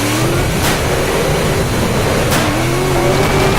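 Steady, loud engine roar of a car in the Roblox video game, with rising and falling rev tones under a continuous drone and brief whooshes, no talking.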